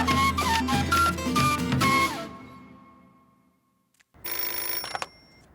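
A telephone rings in a French TV series, a fast bright trill repeated through the first two seconds, close and loud, then fading to silence before a burst of noisy handling.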